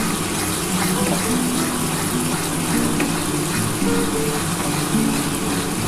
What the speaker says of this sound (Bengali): মশলাটা দিয়ে ভালো করে কষিয়ে নিই, তারপর আমি মশলার জলটা দিয়ে দেবো।